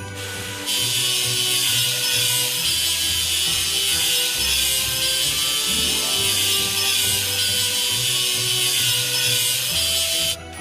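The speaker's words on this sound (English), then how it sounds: "Let's sand the welding seam." A game sound of sanding a welding seam on an icebreaker ship: a continuous harsh grinding, rasping hiss over a low mechanical hum, steady and loud for about ten seconds, with no talk.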